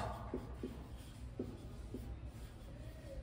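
A pen scratches across paper during a math lesson, making a few soft, separate strokes at close range in a quiet room.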